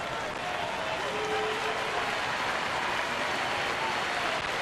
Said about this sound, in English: See the fans applauding him for the effort